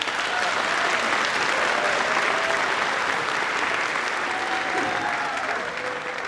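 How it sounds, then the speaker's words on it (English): A dense, steady wave of applause fills a school holiday concert hall for the assistant band director who leads the middle school, loud and sustained throughout before easing slightly at the end. "Let's give him a round of applause right now"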